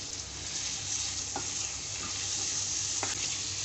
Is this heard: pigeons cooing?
no